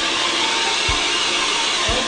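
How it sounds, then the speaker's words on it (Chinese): A hair dryer blows freshly washed and bleached hair dry, a loud, close, rushing roar lasting the whole moment, with two soft low thumps underneath. "把它吹干先。"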